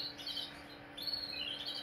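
Faint, high-pitched chirping from canary chicks in a nest, thin peeping calls coming in short bursts over a quiet background hum.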